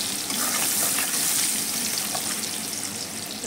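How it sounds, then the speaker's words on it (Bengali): Chopped onion frying in a pan for a fish curry with potatoes and taro stems, a steady loud hiss with a soft watery, gushing quality and faint stirring underneath. "পেঁয়াজ কুচি দিয়ে ভালো করে নাড়বো।"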